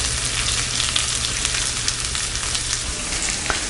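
Onions sizzling in hot oil for brinjal thokku, a steady close crackle and hiss running the whole time with occasional sharper pops and no talking.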